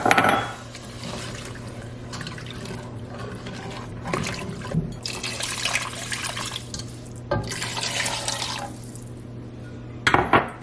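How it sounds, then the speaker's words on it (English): Water pours into a cooking pot already holding chicken bouillon, a steady liquid splash and trickle with soft clinks of pot or glass, faint and close, with no talking. "I'm gonna add 4 cups of water now"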